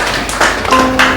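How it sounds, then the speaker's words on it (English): A short burst of applause at a Nigerian-Lebanese fashion show, with a few sharp, close claps and light clapping around them over about a second. "A big round of applause for yourselves."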